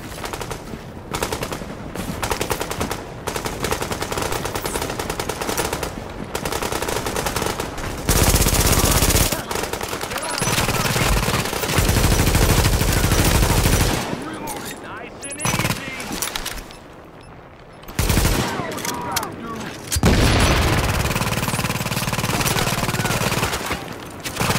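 Video game gunfire keeps up through a combat scene, with long bursts of machine-gun fire and single shots that pause briefly now and then. Voices speak intermittently over the shooting.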